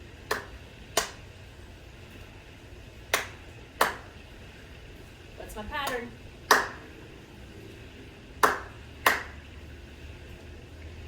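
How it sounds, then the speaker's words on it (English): Sharp claps ring out in a repeating clap-clap-hop pattern during a children's letter-learning lesson, with a soft thud between the pairs and a speaking voice in the middle. "Clap, clap, hop. Clap, clap, hop."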